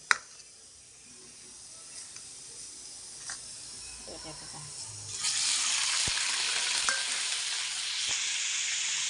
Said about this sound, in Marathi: जास्त नाही थोडंच डीप फ्राय करून घ्यायचं आपल्याला